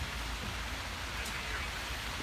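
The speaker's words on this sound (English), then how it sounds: "It's raining pretty heavy here." Heavy rain falling steadily outdoors, a dense, even hiss of drops on surfaces at constant moderate loudness, with no distinct voices over it.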